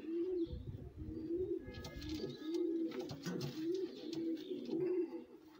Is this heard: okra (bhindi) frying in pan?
no